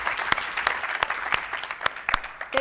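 Audience applause at a tech conference session, steady dense clapping throughout with sharp individual claps standing out, fairly close and sustained, no talking.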